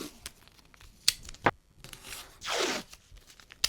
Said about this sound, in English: Let's go ahead and tape down our piece of paper.